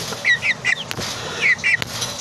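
Chicken handled in someone's grip, giving a few short, bright squawks and clucks in two clusters with a brief rustle and flutter between them, close and fairly clear with no talking.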